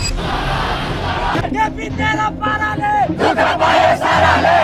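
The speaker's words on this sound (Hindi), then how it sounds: "नेपाल की राजधानी काठमांडू में हजारों लोगों की भीड़ इकट्ठी हुई थी प्रोटेस्ट करने के लिए" A dense crowd of thousands of young protesters shouts in the streets of Kathmandu, Nepal, a loud continuous roar of massed voices with rising chants and yells.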